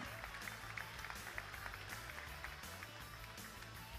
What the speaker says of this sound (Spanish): Repetimos el aplauso para el periodista